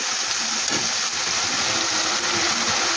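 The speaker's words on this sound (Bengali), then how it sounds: "এবার একটা টমাটো মশলাটাকে আমি ভালো করে একটু কষিয়ে নেব" Tomato spice paste fries in a pan, giving a dense, steady sizzle with faint scraping stirs close by.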